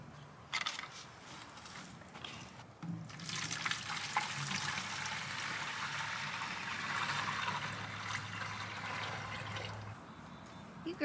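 Water poured into a container for backyard chickens, a steady broadband splashing and trickling that runs for most of the stretch, fairly close, with a low hum underneath and no talk.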